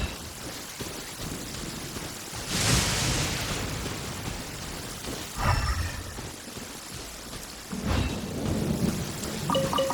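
Rain falls steadily in Genshin Impact while rolling thunder swells and fades three times, loud bursts of rumble over a constant hiss of rainfall.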